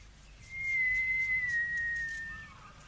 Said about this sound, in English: Well, go on. Whistle again.